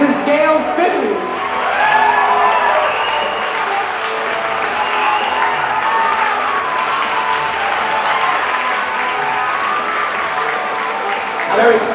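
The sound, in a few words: wedding guests applauding the groom's parents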